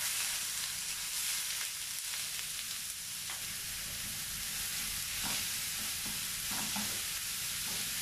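Sliced onion frying in hot oil for a prawn chatti pathiri, a loud continuous sizzle with stirring scrapes and a few sharper clatters of the spoon against the pan.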